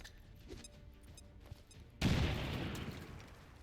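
A bomb blast in the XCOM 2 video game: after a quiet stretch, a sudden loud boom erupts with a rumbling tail that slowly fades.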